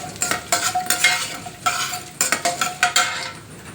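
Dried red chillies are tossed into a frying pan for broad bean curry and stirred, giving quick bursts of metal utensil scraping and clinking over a light sizzle, close and fairly loud.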